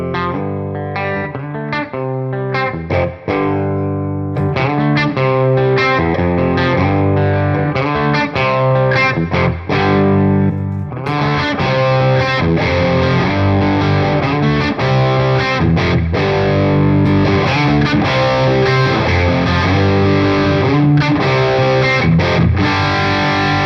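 An electric guitar riff runs through a Bad Cat Hot Cat 50 amp, a loud, driven, distorted tone that starts with choppy palm-muted chords and then opens into fuller, sustained crunch, continuous with no talking.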